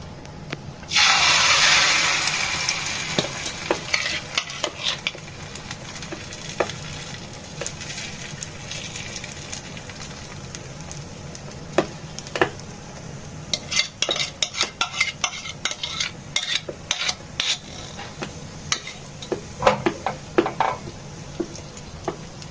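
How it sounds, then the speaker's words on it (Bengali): An egg and potato mixture fries in an oiled pan, opening with a loud burst of sizzle as it hits the hot surface, then settling into a steady crackle with frequent clinks and scrapes of a utensil against the pan. "ফ্রাই প্যানে ঢেলে দেবো"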